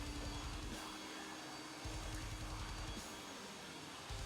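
Steady jet engine whine and rumble from a SAAB AJS 37 Viggen taxiing toward the runway in the DCS flight simulator, a continuous drone with slight low-end pulsing as the aircraft turns.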